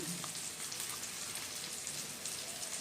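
Tomatoes cooking in a pan for a tuna fish curry give a steady, soft, rain-like sizzle that carries on evenly throughout, with no talking over it.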